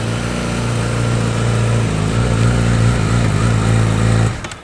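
A Honda CB1000 Hornet motorcycle engine runs steadily at a loud, even pitch for several seconds before cutting off abruptly.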